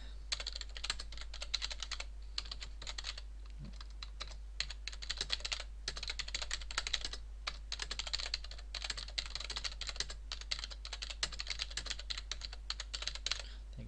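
Steady, rapid typing of C# code on a computer keyboard, close and continuous with brief pauses between bursts of keystrokes, no voice over it.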